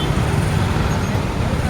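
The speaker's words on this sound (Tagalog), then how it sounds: "So just look at the traffic condition." Road traffic in Davao on a rainy day, a steady, dense wash of car, bus and truck engine rumble and wet tire hiss that stays loud and continuous throughout.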